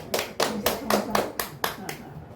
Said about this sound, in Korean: 오늘 환영의 박수 하시겠습니다.